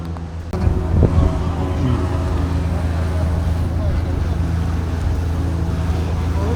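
A steady motorboat engine drones throughout on a boat ride in Ghent, Belgium, with wind buffeting the microphone, after a brief bump near the start.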